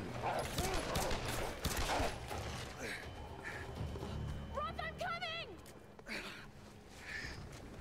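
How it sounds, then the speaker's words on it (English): Rapid bursts of gunfire crackle in the distance among mechanical clanks and electronic tones in the video game Tomb Raider, with a steady rumble underneath. "there's distant gunfire going on"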